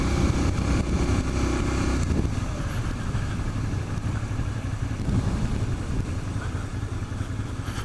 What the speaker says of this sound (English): Add some throttle, let go of the clutch slowly, hitting the friction zone, adding more throttle as I let go of the clutch